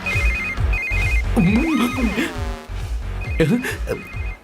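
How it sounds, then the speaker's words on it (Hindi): A telephone rings in a repeating electronic ringtone pattern, with a dramatic musical swell rising underneath midway and again near the end. "इस वक्त दीदी का फोन।"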